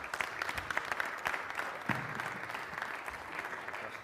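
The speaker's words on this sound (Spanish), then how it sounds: "Un aplauso para él" Audience at a technology and productivity conference applauding, a dense, sustained wash of many hands clapping for several seconds at moderate volume.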